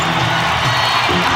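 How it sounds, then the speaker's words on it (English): Arena crowd noise from a 1997 NBA game, Trail Blazers at the Houston Rockets, a steady loud roar of cheering and whooping filling the whole moment without a break. "And the crowd is trying to get into it."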